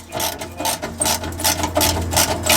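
A ratchet undoing exhaust rear quarter bolts on a Vauxhall Corsa VXR, giving a close, loud, rapid series of rhythmic clicking strokes repeated steadily with brief pauses between bursts.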